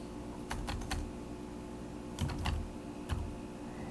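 Computer keyboard typing, short bursts of close, crisp keystrokes in quick clusters separated by brief pauses.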